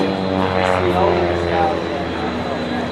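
An old propeller airplane with a magneto-fired piston engine drones steadily at an air show, a loud continuous hum while someone talks over it.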